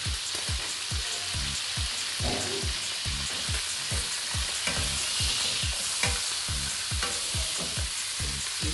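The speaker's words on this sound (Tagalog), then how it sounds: "Kaya na po, ginigisa natin." Garlic sautéing in a pan while being stirred, a steady close sizzle broken by regular scraping strokes of the utensil for the whole stretch, with no voices.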